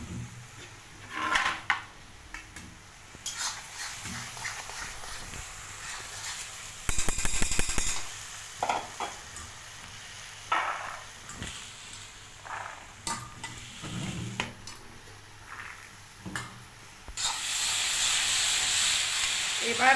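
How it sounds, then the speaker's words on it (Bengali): Frying on a high flame while making ghugni, an uneven sizzle with stirring scrapes and clatters, a brief buzzing burst in the middle and a louder steady hiss toward the end. "হাই ফ্লেমে ভেজে নিচ্ছি"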